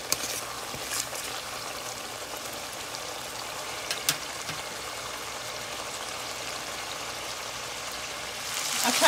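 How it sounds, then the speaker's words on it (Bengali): Onions sizzling in hot oil for an egg curry, a steady broadband crackle and hiss with a few sharper pops, close and even throughout, swelling louder near the end. "কম ভাজা ভাজা হবে যখন একদম তেলটা ছেড়ে যাবে পেঁয়াজ থেকে ততক্ষণ অব্দি ভাজবো"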